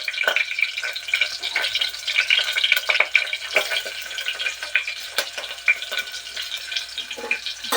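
Chopped onions fry in a spoonful of oil for a brinjal curry, a close, steady crackling sizzle with scattered pops and stirring scrapes running the whole time.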